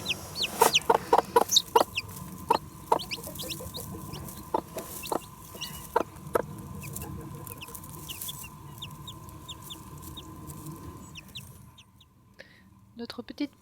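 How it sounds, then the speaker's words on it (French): A mother hen clucks with her young chicks, who peep in high, scattered bursts over low, steady murmuring from the hen, close and clear before trailing off near the end. "Notre petite poule Mac est vraiment une maman géniale"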